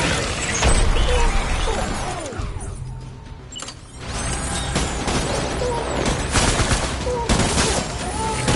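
Heavy gunfire in the Death Stranding video game, loud dense bursts and rattling volleys with crashes and impacts, briefly easing before the shooting surges again.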